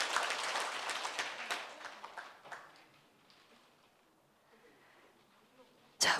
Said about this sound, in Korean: 다시 한 번 더 큰 박수 보내주시길 부탁드리겠습니다